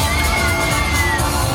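A crowd of children screams and shouts together at a lively pirate-and-shark themed show, producing a loud, sustained burst of excited cheering with no separate voices standing out.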